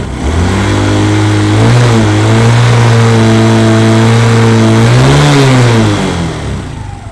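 A Suzuki Smash 115R motorcycle engine held at full throttle, a loud, close, sustained high-revving drone whose pitch rises, holds, and swells again before falling away at the end.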